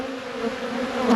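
Honey bees buzzing around a weak hive under attack from robbers, a steady close drone with a faint rise at the end.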